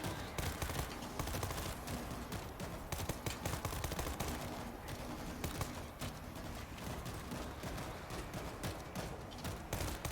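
Rapid bursts of video game gunfire crackle in dense, continuous volleys, faint and busy, with no talk.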